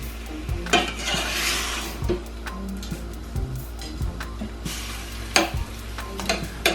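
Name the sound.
chicken being stirred and browned in a pan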